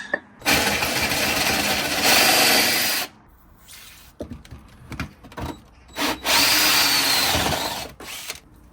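A power drill with a cheap bit whines loudly through two long bursts while drilling a hole during bathroom building, separated by shorter intermittent revs and pauses, close to the listener.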